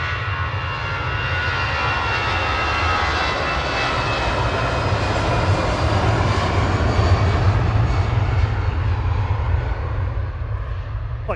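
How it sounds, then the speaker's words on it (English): An EasyJet Airbus A320 departing Manchester Airport gives a loud, sustained jet engine roar with a deep rumbling low end, steady and close throughout. "Flight 2167 to Amsterdam, departing there for EasyJet, A320 Classic."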